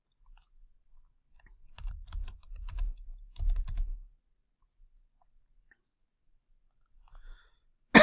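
Keys clatter on a computer keyboard in two short, quiet bursts of typing close by, followed by a single sharp click at the very end, with silence between.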